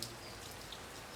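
Soft, steady patter of rain falling on ripe paddy fields in Punjab, faint and continuous, with no voices.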